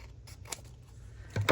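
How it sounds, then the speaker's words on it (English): Paper cut with scissors in a creative journal, a few sharp snips in quick succession followed by a louder cutting crunch at the end. "dare I cut this with scissors?"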